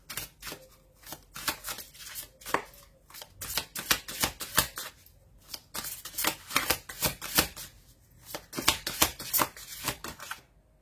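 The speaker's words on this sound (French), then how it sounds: "on va tirer d'autres cartes." Playing cards being shuffled and drawn from a deck, a long run of crisp, rapid riffles and snaps close up, in bursts with short pauses between, no voice over them.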